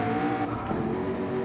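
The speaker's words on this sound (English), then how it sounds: "So we have got some drivers out on track, I can hear." GT3 race cars circulate on a track in a sim racing game, a steady, loud engine drone with tyre noise and no break across the short stretch.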